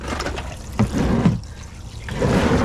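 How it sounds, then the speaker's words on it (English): Water trickles and splashes steadily out of the oil pan drain plug on a rare prototype military truck that has sat unrun for years, a continuous close pouring dribble into a pan. "Oh, look at all the water."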